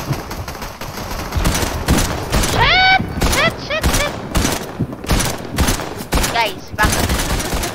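Rapid rifle gunfire from a first-person shooter game fires in repeated bursts and single cracks across the clip, loud and close, with players shouting over it.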